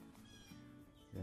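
A deaf, formerly feral cat named Twiggy on an oak savanna restoration site mews faintly in short cries, then a louder meow comes at the end; a voice talks faintly underneath.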